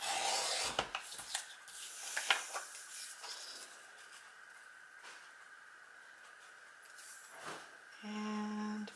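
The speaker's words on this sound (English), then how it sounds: "So I'm going to trim it right by that little dot." Paper being trimmed for a handmade Christmas card, heard as soft, close rubbing and scraping strokes from a trimmer, fairly quiet, with a brief clatter near the end and no speech.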